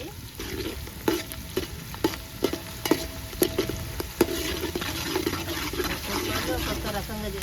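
Chicken pieces fry and sizzle steadily in a pan for a chicken fry biryani, with repeated sharp scraping clicks of a spoon stirring through the hot oil.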